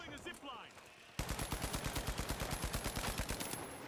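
A rapid, even stream of automatic fire from the FCAR rifle in the shooter game The Finals rings out loud and close for a few seconds, following a short stretch of other game sounds.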